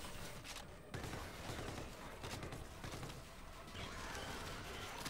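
Suppressing gunfire in the video game Call of Duty: Infinite Warfare, a dense continuous barrage of shots and crashes filling the whole stretch loudly with no letup.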